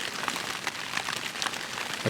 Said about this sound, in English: I can look outside the tarp and get a front row seat on that rain